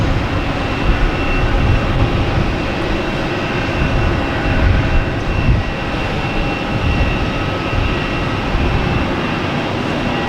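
An American Airlines jet airliner, arrived from LAX, rolls in at Boston Logan Airport with a steady, loud broadband engine roar held for the whole stretch under outdoor ambience.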